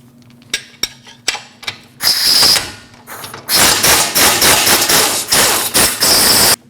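Ratchet and wrench clicks loosening an 18mm bolt and nut on the rear suspension of a 2014-2023 Jeep Cherokee, with a few sharp separate clicks and then long bursts of fast, loud ratcheting close by.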